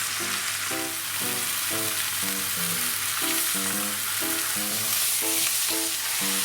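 Char siu pork sears in a pan for a crisp browned crust, giving a loud, unbroken hiss and sizzle up close. Faint tonal, music-like notes pulse beneath it throughout.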